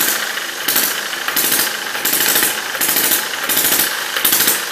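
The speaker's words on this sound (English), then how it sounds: "engage the clutch and that will start the sawmill running" An engine-driven sawmill runs through a newly fitted clutch, giving a loud, continuous mechanical roar with a regular pulsing beat repeating about every 0.7 seconds, steady and close throughout.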